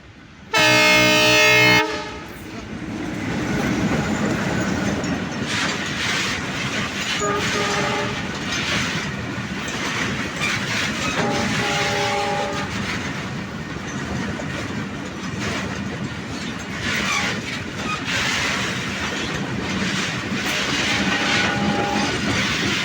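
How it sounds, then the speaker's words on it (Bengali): A long oil tanker train passes close by. It opens with a loud, sustained horn blast, then a steady, heavy rumble of rolling wagons and wheel clatter continues throughout. "এই মুহূর্তে আমার পিছন দিয়ে একটি ট্রেন আসতেছে"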